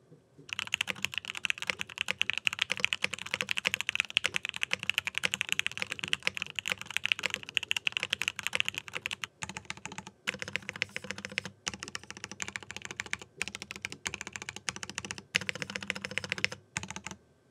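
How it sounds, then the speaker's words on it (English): Fast, continuous clacking of a mechanical keyboard being typed on, crisp close keystrokes with a few brief pauses, no voices. "Here's what this keyboard sounds like."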